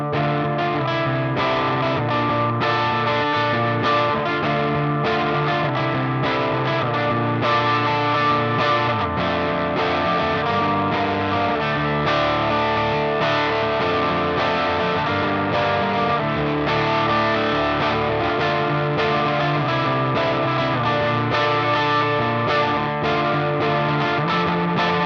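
Electric guitar through a Jeds Peds Distortion Plus pedal on a low-gain setting plays a continuous riff of chords and single notes, warm and slightly crunchy, with no talking.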